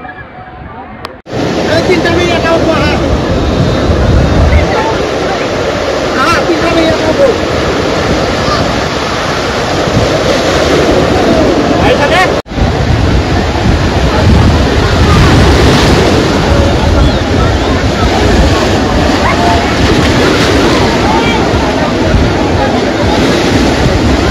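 Sea waves at Digha beach, a loud, steady roar of surf and wind lasting throughout with a brief dropout, with faint voices in the background.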